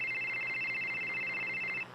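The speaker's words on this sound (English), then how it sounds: "That's the sound of a normal cell phone call." A normal cell phone call tone from a radio ad: a steady electronic tone holds evenly for nearly two seconds over a faint hiss, then cuts off abruptly.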